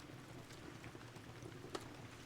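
Gentle rain falls in a soft, even hiss with occasional light drop taps, quiet and unbroken, with no talking.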